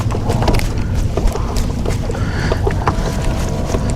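Strong wind roars steadily across an open lake around a fishing boat in the rain on Lake Guntersville, a loud, continuous rush of buffeting noise with water slapping beneath.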